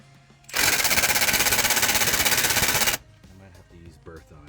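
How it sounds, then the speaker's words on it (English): Small impact gun hammering on tightly torqued bolts during a CAT C0.5 APU rear main seal repair, one loud rapid rattling burst of about two and a half seconds, then quiet workshop handling noises. "Too much for this little impact gun."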